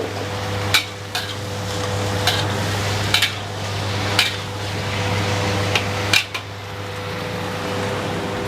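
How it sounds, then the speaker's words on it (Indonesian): Vegetables being stir-fried in a pan for catering bento boxes, with periodic sharp scrapes and taps of a utensil every second or so over a constant hum and soft sizzle. "Kita tumis sayur-sayurannya."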